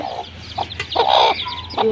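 Hens and chicks cluck close by, short repeated clucks and soft cheeps in quick bursts over a quiet farmyard background.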